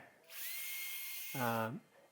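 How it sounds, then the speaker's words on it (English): A chainsaw cuts through vines in an overgrown garden during landscaping work. A high whining buzz runs for about a second, then drops into a lower, rougher engine tone before cutting off abruptly. "when you're using a chainsaw"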